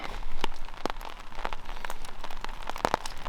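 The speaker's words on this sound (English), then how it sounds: "rain on a tarp." Steady patter of rain drumming on a taut tarp shelter close by at a winter camp in the Scottish Highlands, with scattered louder drips and taps standing out over a continuous hiss.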